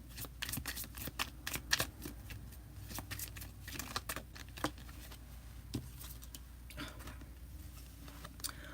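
A deck of oracle cards being shuffled by hand, giving a steady run of quick, soft riffling flutters and light card slaps throughout, fairly close but quiet, with no talking.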